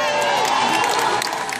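Concert crowd at the Hollywood Bowl in Los Angeles, cheering and applauding loudly and steadily before a Chinese folk song duet, a dense wash of claps and shouts without a break.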